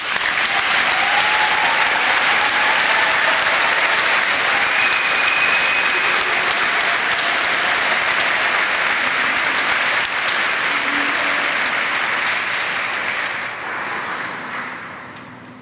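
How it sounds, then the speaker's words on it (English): A commencement audience honouring the class of 2020 gives a long, full round of applause, dense and sustained before tapering slightly near the end. "will you please join me in a quick round of applause to commemorate the class of 2020"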